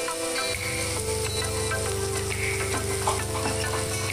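Ginger-garlic masala sizzles as it is fried in a pan for a bottle gourd and prawn curry. The crackle is steady and close, with stirring and a faint tonal hum beneath.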